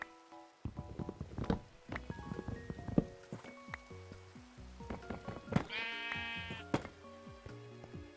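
Sheep in a video game bleat repeatedly over several seconds, a series of close, clear baas with a higher, brighter call near the end, alongside light game sound effects.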